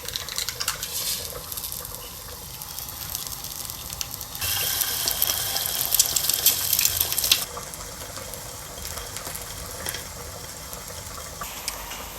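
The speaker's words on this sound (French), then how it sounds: "Je vais faire des œufs au plat." Eggs fry in a little oil in a pan, giving a steady crackling sizzle that swells louder for a few seconds mid-way, with occasional light clinks of a utensil and no talking.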